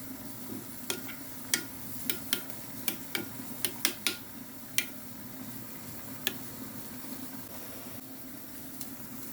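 Ginger-garlic paste, green chilies and yogurt being stirred into a garlic-tomato chutney, with a series of sharp spoon-on-pan clicks and taps over a soft, steady background hiss.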